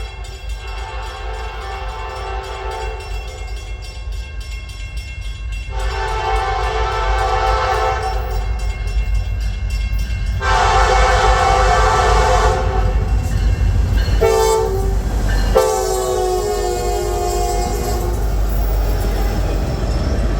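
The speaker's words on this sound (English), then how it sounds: "This train is NS265, and he has an all EMD show." A Norfolk Southern freight train hauled by EMD locomotives rumbles steadily past on the D&H line, deep and loud, while its horn sounds several long blasts and then a short one. No one speaks.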